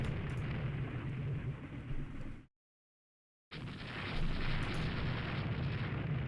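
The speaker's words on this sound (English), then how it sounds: "we'll just use our guns to kill it" Naval gunfire from warships in the naval strategy game Rule the Waves 3, a continuous rumbling roar of distant heavy guns, broken by a second of complete silence midway.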